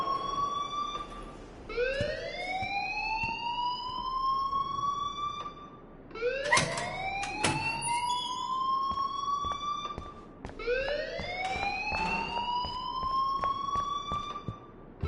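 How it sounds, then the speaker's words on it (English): A school alarm in the video game Life is Strange wails in three loud rising sweeps, each climbing and then holding steady before restarting, with faint clatter between the cycles. "please turn off that alarm since that's your job"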